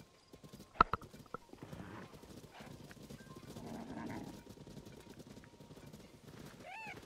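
A horse in Zelda: Tears of the Kingdom, with quick clopping hoofbeats, a sharp whinny early on, then soft rumbling movement and game effects at moderate level, with faint talk in the background.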